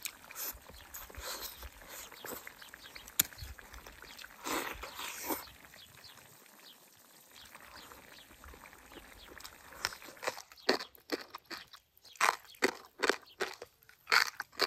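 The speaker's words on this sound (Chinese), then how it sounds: "这萝卜干是香辣味的，嘎嘣脆，美味的很。" Crisp crunches from someone chewing spicy dried radish with a meal in a countryside kitchen, bursts of loud close bites in an irregular rhythm with a quieter pause midway.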